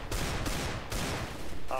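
Gunfire in CS:GO during a demolition match: several loud bursts of shots in quick succession over a dense noisy background, the reports roughly half a second apart.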